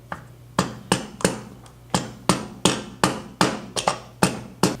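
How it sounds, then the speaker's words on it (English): A wooden dowel rod gently taps the top of a piston to ease it into an engine cylinder during a Z6 piston install: about a dozen crisp, close knocks at a fairly steady quick pace over a faint low hum. "we're going to use a dowel rod to gently tap the top of the piston"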